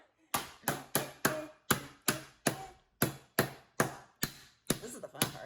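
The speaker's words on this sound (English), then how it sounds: "now take your hammer and go at it" A hammer smashes hard candy sandwiched between foils, eleven or twelve sharp, loud cracking blows struck in a steady rhythm, each one ringing briefly and fading before the next.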